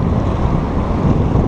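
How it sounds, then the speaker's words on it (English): Steady, loud wind buffeting a microphone on the bank of the Missouri River in Montana, a continuous low rumbling roar with no break and no voices. "sorry about the wind."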